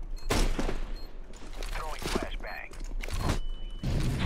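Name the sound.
gunfire in the video game CS:GO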